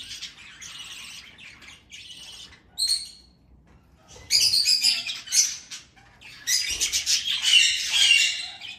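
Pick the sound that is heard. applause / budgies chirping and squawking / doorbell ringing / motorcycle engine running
budgies chirping and squawking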